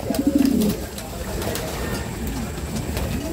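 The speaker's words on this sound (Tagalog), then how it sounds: "Mga kalapatids, kumpleto tayo." Racing pigeons at a training loft cooing, a close burst of soft throaty coos at the start, followed by fainter coos over steady background noise.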